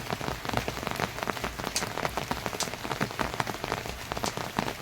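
Steady rain pattering on a hard surface, dense and continuous with scattered heavier drops, close by and with no voices.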